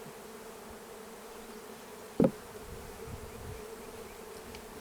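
Honeybees on a frame during a hive installation keep up a low, steady buzz throughout, with one brief louder bump midway as the frame is handled.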